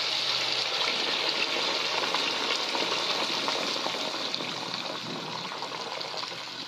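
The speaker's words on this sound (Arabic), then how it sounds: "هنزل بعد كده بالمية المغلية" Boiling water poured into a pot while cooking duck, a loud continuous gushing splash and hiss that tapers off slightly toward the end.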